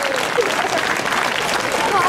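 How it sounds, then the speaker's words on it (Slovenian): A crowd at a tombola event in Kranj applauds loudly and continuously in a thick, even roar of clapping, with some voices mixed in. "dajmo jim en velik aplavz"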